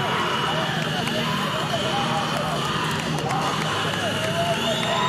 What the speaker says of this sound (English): Sold out crowd here in Vienna